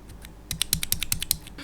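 Keys clack on a mechanical keyboard with Otemu switches in a quick run of crisp, close clicks with a slightly scratchy, hissy edge.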